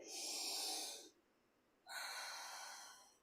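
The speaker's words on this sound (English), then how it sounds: "Now take another deep breath in" Two close, soft breaths drawn slowly through the nose and mouth, each an airy hiss lasting about a second, with a short quiet pause between.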